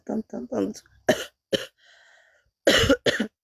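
A feverish person coughs hard and repeatedly: a tight cluster of harsh coughs, then single coughs, a quiet pause, and another loud run of coughs close to the mic.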